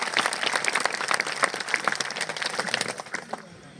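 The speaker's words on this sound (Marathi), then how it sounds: "महाराजांसाठी एकदा जोरदार टाळ्या झाल्या पाहिजे" Loud, dense applause from an audience at a kirtan in Yevati honouring the maharaj, steady hand-clapping that thins and fades toward the end.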